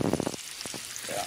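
Strips of bacon frying crisp in a pan on the stove, a steady close sizzle with bursts of louder crackle at the start and briefly again midway.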